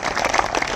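An audience at a live political gathering gives a short, sparse burst of clapping that is thin and brief, with no voices over it.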